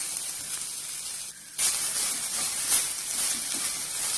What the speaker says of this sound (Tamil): தேங்காய் நல்லா கலர் மாறுற அளவுக்கு நல்லா வறுக்கணும்